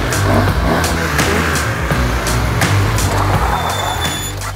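Engine noise from a heavy 270 kg stunt motorcycle at a stunt challenge, a steady loud droning rumble throughout with repeated brief sharp bursts on top.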